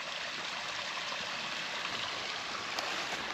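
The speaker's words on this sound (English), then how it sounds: "some rock, making a nice little waterfall, cascade type." A small creek splashes over rocks in a little waterfall cascade, a steady close broadband rush of trickling, gurgling water with no break throughout.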